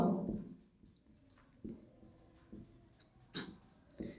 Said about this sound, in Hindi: ध्यान रखिए आप मैं लिख देता हूँ